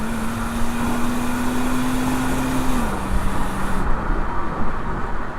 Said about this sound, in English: It makes a pretty good noise, relatively quiet, super refined, just smooth. Fantastic engine.